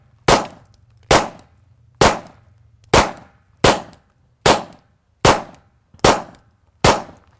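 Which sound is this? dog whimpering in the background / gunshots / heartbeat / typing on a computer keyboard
gunshots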